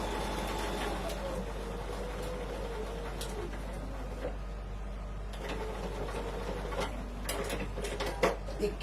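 A sewing machine stitches through fabric with a steady mechanical whir and light rapid clatter, running continuously at moderate volume, with a few sharper clicks near the end.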